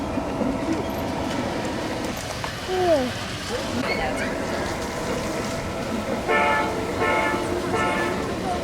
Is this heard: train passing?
yes